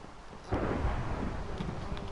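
Thunder rumbles through a Minecraft thunderstorm, a deep rolling boom that swells after a brief lull and stays loud and sustained to the end.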